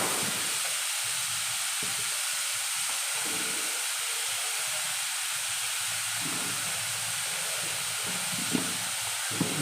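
Sliced onions sauté in a hot pan for paneer butter masala, giving a constant loud sizzle and hiss with soft stirring scrapes throughout, near and steady.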